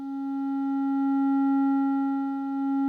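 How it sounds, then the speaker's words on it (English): A steady, near-pure sine tone from a Klavis Mixwitch eurorack module holds at one pitch with faint overtones, swelling gently in level and dipping slightly before recovering, alone with no talking. "just a sine wave. It's not a perfect sine, but it's pretty close."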